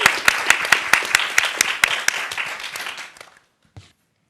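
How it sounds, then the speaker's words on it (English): Audience applause closing an artist talk: loud, even clapping from a modest crowd, thinning and fading out after about three seconds, followed by near silence and one last faint thump. "And to give one last round of applause,"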